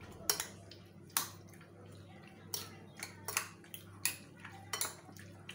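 Salt being stirred into a cuttlefish marinade in a bowl, heard as a handful of sharp clinks and scrapes of utensil against the bowl, spaced irregularly over a low steady background hum.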